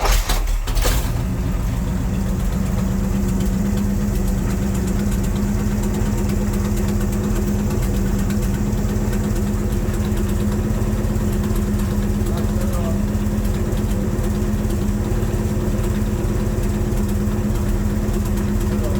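A C3 Corvette's V8 idles after a carburetor tune, a steady loud rumble holding throughout after a sharp start-up burst.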